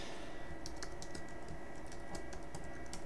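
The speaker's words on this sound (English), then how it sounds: "you can push any key on the keyboard that you want" Keys pressed on a computer keyboard while configuring an HP network switch, a rapid, irregular run of soft tapping keystrokes over a steady hum, close and fairly quiet.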